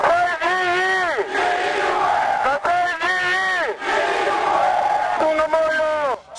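A large crowd gathered for Théo Kazadi's address in Kamusha, with many voices chanting and shouting together in loud, sustained rising and falling waves that repeat several times, close and dense.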